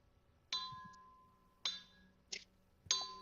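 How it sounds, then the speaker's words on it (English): A split Damascus steel bell is struck three times in an uneven rhythm, with a short, dull clink in between. Each ring is bright and metallic and dies away fairly quickly, heard close up in quiet. "Damascus bell with a split."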